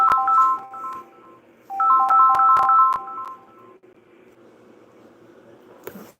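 A telephone ringtone plays two loud, close bursts of bright electronic melody, one right after the other. The room then goes quiet apart from a low hum, and a sharp click comes at the end.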